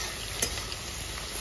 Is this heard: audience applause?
no